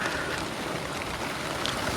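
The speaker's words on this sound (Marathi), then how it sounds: "पाऊस बरोबर म्हणजे चिकन झाला परफेक्ट आणि पाऊस आला" Steady rain patters down across the whole stretch, a dense, even hiss with scattered drops and no voices.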